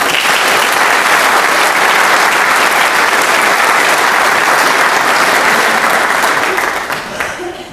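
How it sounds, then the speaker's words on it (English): Audience at a police department awards ceremony applauding, a loud sustained wash of clapping that carries on steadily and fades slightly at the end. "So why don't we give them a round of applause."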